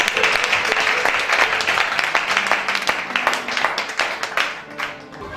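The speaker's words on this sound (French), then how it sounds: "Quelqu'un va acclamer fortement le Seigneur." A church congregation breaks into loud, sustained applause and acclaim for the Lord, with dense rapid clapping and some voices mixed in before it thins out at the end.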